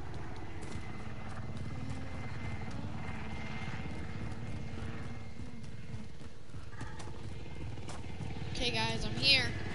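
A helicopter in a multiplayer shooter video game drones with a steady, continuous rotor roar throughout, loud and unbroken, while players chat over it.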